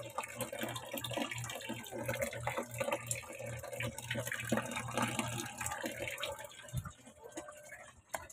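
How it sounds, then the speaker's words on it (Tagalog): Weak tap water runs steadily into a container in a home, a faint continuous splashing trickle, close and unbroken, with no talk over it. "Nag-iipon lang ako ng tubig kasi mahina eh."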